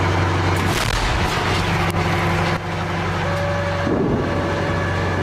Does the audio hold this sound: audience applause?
no